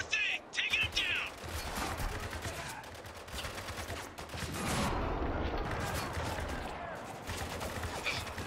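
Sustained gunfire from the video game Spec Ops: The Line, with rapid automatic bursts and scattered single shots rattling continuously under shouted in-game voices and mechanical clatter.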